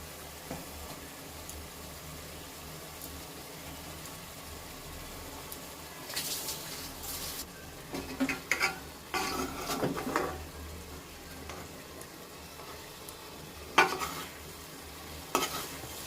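Egg gravy bubbles and sizzles in a pan, a soft steady simmer underneath with intermittent louder scraping and stirring strokes toward the middle and end.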